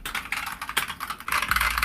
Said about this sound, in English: So this is what my normal keyboard sounds like.